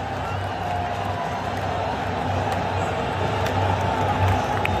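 Stadium crowd roaring in celebration after Saudi Arabia's equalising goal in a football match against Argentina, a steady dense wall of distant cheering and whooping sustained throughout.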